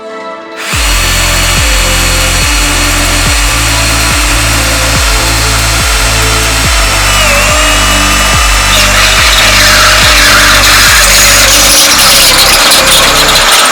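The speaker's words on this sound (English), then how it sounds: "I'm going to take my drill with a step bit," A power drill fitted with a step bit bores holes through a Toyota Tacoma truck's steel frame, grinding steadily and loudly with a rhythmic pulsing chatter that repeats about every 0.6 seconds, close and continuous throughout.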